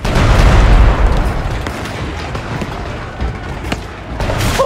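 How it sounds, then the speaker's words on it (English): Cannons firing and their shells exploding in the stealth game Shadow Tactics: Blades of the Shogun, heavy booms with a loud rumbling blast at the start, then continued crackling impacts and debris. "Aim the cannons!"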